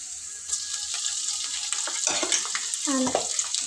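Chicken livers frying in a pan with a loud, continuous crackling sizzle, broken by stirring scrapes of a spoon against the pan in the latter half.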